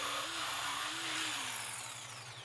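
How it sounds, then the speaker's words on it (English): A jigsaw cuts a wooden hammock spreader bar in half, a continuous loud, close buzzing whine with a faint wavering pitch that eases slightly toward the end. "I used a jigsaw to cut the new spreader bar in half."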